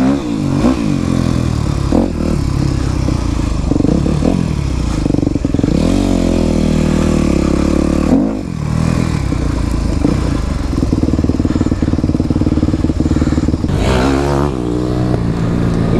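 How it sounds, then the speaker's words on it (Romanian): An ATV engine runs in mud, loud and close for sixteen seconds, rising and falling as the throttle is blipped, with clattering and splashing under the steady roar. "Gata, am pornit și motorul lui Corbu."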